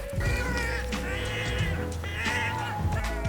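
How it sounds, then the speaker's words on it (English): A bird squawking loudly outdoors in a garden, harsh strained calls repeating in two long bursts, close and prominent, with no talk over them. "Sounds like a damn bird's dying over there or something."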